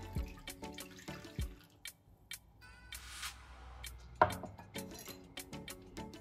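Water poured from a measuring cup onto yeast and sugar in a bowl while making Turkish Ramadan pide dough, heard as a quiet splashing trickle with scattered drips and small knocks, close and soft, no talking.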